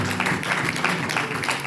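A church congregation claps and applauds loudly, a dense burst of hand claps that fills the short moment without pause.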